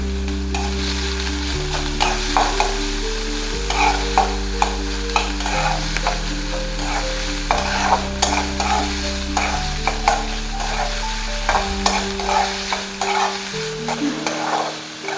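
Chillies and onion fry and get stirred in a pan while vegetable appe are prepared, a constant close sizzle broken by regular scraping strokes and light knocks of the spoon, with steady music playing underneath.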